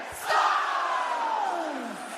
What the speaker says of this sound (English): it's just bouncing up and down because the crowd is going crazy